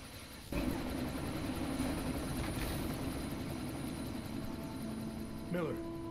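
A helicopter in the video game Deus Ex: Mankind Divided gives a steady, droning rotor and engine hum that holds throughout at moderate loudness, with a brief tonal game sound near the end.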